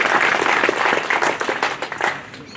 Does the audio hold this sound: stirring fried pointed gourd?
no